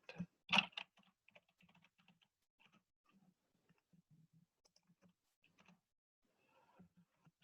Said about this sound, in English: Oops, I forgot to finish typing it